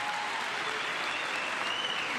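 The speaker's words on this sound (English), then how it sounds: "Tired of clapping." Sustained, dense audience applause fills a large chamber during the State of the Union address, steady and continuous with no pauses, with a faint murmur of voices beneath it.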